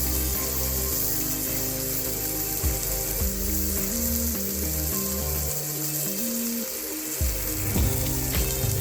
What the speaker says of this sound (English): we'll retrieve our little turtle friend and transfer him to a frying pan